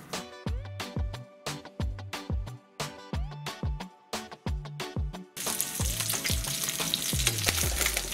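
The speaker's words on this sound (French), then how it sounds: "Je dépose deux morceaux de saumon. On laisse cuire 3 minutes de chaque côté." Salmon fillets fry in a pan with a steady, loud sizzle that rises in the second half over a rhythmic musical backing.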